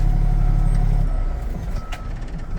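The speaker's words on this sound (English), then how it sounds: "For this, I have to shut off the truck." A truck's engine rumbles loudly for about a second, then is switched off and the low drone falls away, leaving a brief residual hiss and faint clicks.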